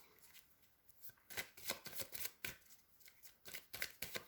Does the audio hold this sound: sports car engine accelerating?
no